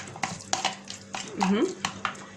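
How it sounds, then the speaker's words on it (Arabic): Food being mashed by hand in a wide bowl in a home kitchen, with repeated close utensil scrapes and knocks against the bowl in an uneven rhythm. "انا حبيت اهرسها في حاجه واسعه شويه"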